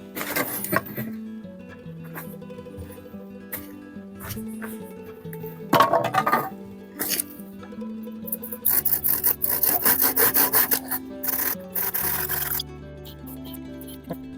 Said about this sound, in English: I notched the ends for the string